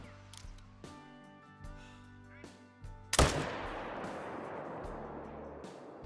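A single loud AR300 Magnum rifle shot fired while hunting in Call of the Wild, a sharp crack with a long rolling echo that fades over several seconds, preceded by quiet game ambience.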